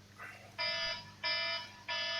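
An electronic alarm beeps in three loud, steady bursts, each a sustained buzzing tone with short gaps between, heard alone before a podcast conversation.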